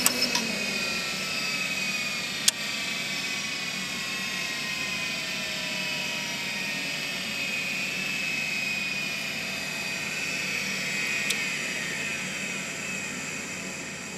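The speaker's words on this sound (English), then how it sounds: "That clip that you heard while it was spinning down was actually the auto head parking mechanism." DECstation 425c hard drive spinning down with its auto head parking mechanism, a faint steady whine slowly descending in pitch, with a couple of sharp little clicks along the way.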